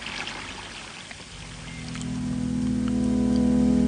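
Water drains from a bathtub after the plug is pulled: a steady rushing, trickling wash that swells louder halfway through and takes on a deepening, humming swirl, with no voices.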